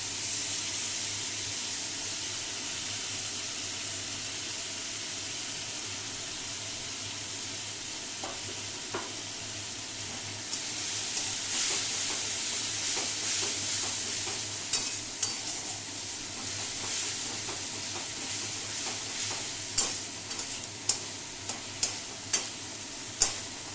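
Spice paste of cumin, coriander, ginger and turmeric sizzles in a pan, a soft steady frying hiss that grows after being poured in, with repeated sharp spoon scrapes and taps from stirring.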